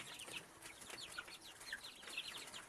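Chickens clucking and chirping while being fed in the evening on a farm, a faint, busy scatter of short calls from several birds with soft rustling, no voices.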